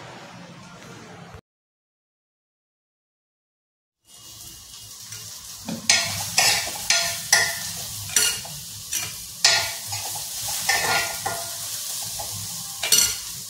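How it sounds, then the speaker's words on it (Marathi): Onion frying in a pan for a masala paste. It starts with a low sizzle, goes quiet for a few seconds, then returns as steady hissing with repeated sharp scrapes and clinks of a spatula stirring against the pan. "इथे मी कांदा भाजत घातलाय"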